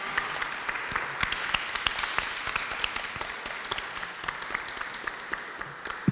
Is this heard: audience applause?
yes